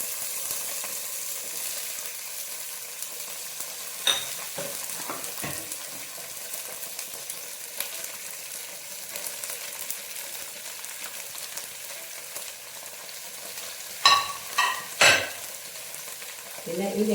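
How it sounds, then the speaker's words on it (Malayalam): Vegetable pieces fry in coconut oil in a hot aluminium pan, giving a steady soft sizzle, with a few louder clinks and stirring scrapes from a utensil scattered through it. "അതിന് ശേഷം നമ്മൾ എടുത്ത് വെച്ചിരിക്കുന്ന ഓരോ കഷ്ണങ്ങളായിട്ട് ഇതിലേക്ക് ഇട്ട് കൊടുക്കുക."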